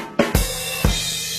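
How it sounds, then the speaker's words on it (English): A brief barbecue chicken fill played on a drum kit, three punchy hits in a quick uneven rhythm under a sustained cymbal shimmer, heard up close without any speech. "that's a cool fill. Let me play it for you"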